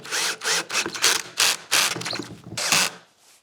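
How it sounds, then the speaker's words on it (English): Screws 2 1/4 inches long are driven into wooden shelf pieces. Several loud, rough mechanical bursts come close up, separated by short pauses, and the last one trails off quietly. "Now we're gonna use 2 1/4 inch screws to screw into these pieces."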